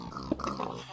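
A short bark-like yelp from a dog in the Minecraft game with the lucky blocks mod, heard close and brief, mixed in with people talking.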